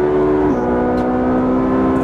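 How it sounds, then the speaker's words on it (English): A Ferrari 458 Speciale on track at Losail snaps through an aggressive upshift, its loud, close engine note dropping sharply in pitch mid-pull and then climbing again as it accelerates hard. "Really aggressive gear shift."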